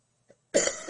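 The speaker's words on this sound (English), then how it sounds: "I cannot shake this cough" A woman's cough bursts out close and loud after a faint small throat sound, a short rough hacking burst that lingers briefly at the end.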